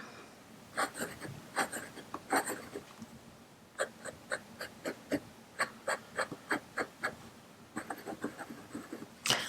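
Ballpoint or gel pens scratching across the paper of a Freely Noted notebook, heard as a close series of short rhythmic strokes in bursts with brief pauses, no talking.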